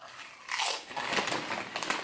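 Barbecue and honey ranch flavored Rap Snacks nuts being crunched and chewed close to the mic, a dense, crackly burst of bites that swells, dips and keeps going briefly.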